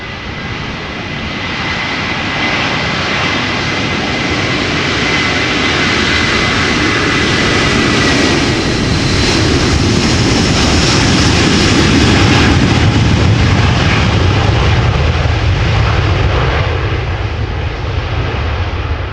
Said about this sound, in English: Turn and burn from the A330 from Delta Airlines, going to Minneapolis